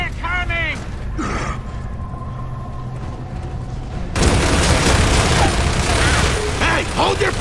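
Gunfire in Gears of War 3 on Xbox 360: a dense, loud burst of rapid weapon fire erupts halfway through, preceded by mechanical clanks and a voice, with talk continuing over the shooting.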